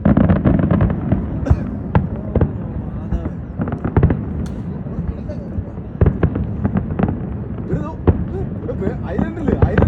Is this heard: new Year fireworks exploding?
yes